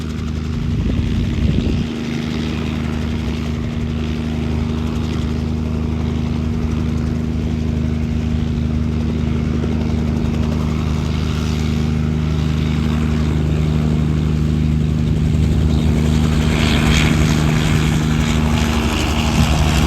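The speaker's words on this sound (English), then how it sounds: "there's a helicopter taking off as well" A nearby helicopter takes off, its loud, steady droning rotor and engine hum with strong low tones running continuously and swelling slightly toward the end, with no voices.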